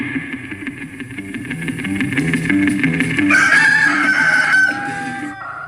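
A rooster crows close by in a long, loud call, rising and then trailing off, with a few clucks and soft bird sounds around it.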